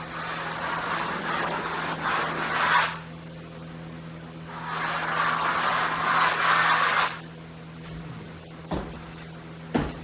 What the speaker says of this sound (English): We'll finish down there with the trowel.